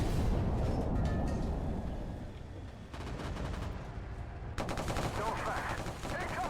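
Incoming mortar fire in a video game battle, heavy bursts of distant gunfire and thudding impacts rolling continuously, with a sharper loud barrage near the end.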